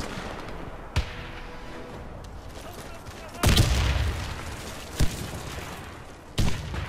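Grenade blasts in the shooter game Warface, a sharp boom around the middle followed by rumbling, with smaller bursts before and after over steady background game noise.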